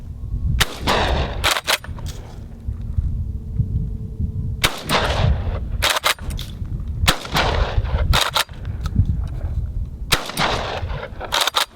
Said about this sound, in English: skeet shooting the tactical shotgun just doesn't seem like that much fun